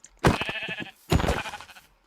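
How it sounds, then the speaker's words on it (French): Sheep bleating in the Minecraft video game: two loud, close bleats, the second following after a short pause, with no other sound around them. "Oh, c'est des moutons, ça me va aussi."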